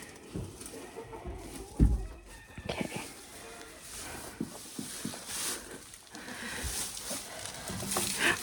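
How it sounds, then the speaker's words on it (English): Chickens cluck and fuss nearby in short irregular bursts, mixed with scratchy rustling and a few louder thumps, with no talking, near a rabbit enclosure. "you chickens are such little investigators"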